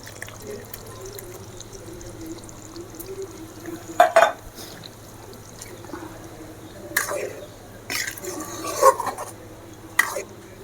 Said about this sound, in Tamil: இப்போ இந்த தேங்காய் அரைச்சி வச்ச தேங்காயை நம்ம இதில் ஊற்றிக்கலாம்